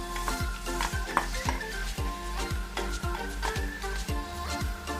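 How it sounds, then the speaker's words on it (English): Finely chopped onion sizzles steadily in hot oil while a utensil scrapes the pan in a regular rhythm, about two strokes a second. Faint clinks sit under the hiss. "Then we're going to add finely chopped 2 medium sized onion"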